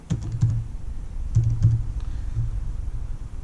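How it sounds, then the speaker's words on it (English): Someone types on a computer keyboard to search for the Garmin website, giving soft, close, irregular key clicks in short bursts, with no talk. "You just type it in Google."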